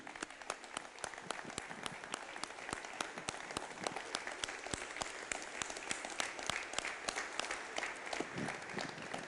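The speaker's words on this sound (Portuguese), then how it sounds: "Uma salva de palmas para Jesus." A church congregation applauds during a Sunday worship service, a dense, sustained clapping from many hands that carries on evenly throughout, heard from some distance at moderate level.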